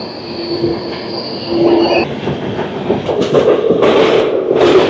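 Loud noise of an electric locomotive hauling a train uphill on a steep section, squealing wheels and rumbling carriages, steady and close, the rolling clatter growing stronger partway through.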